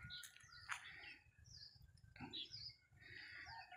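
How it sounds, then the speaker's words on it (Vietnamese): Free-range chickens roam a wide garden orchard of pomelo and other fruit trees, with faint, distant clucks mixed with scattered small-bird chirps and no talk. "Bà con nhìn thấy góc bên kia gà thả vườn chưa?"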